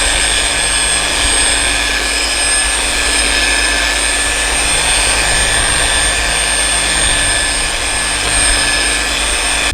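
A polishing machine runs on motorcycle paint, giving a loud, steady whirring drone with a high, sustained whine and no audible change in pitch or talk.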